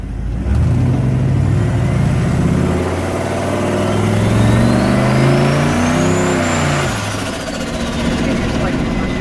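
A Winnebago motorhome with a swapped-in Chevy LS V8 engine accelerates while driving, the engine pitch climbing through gears loud and close, with people talking over it.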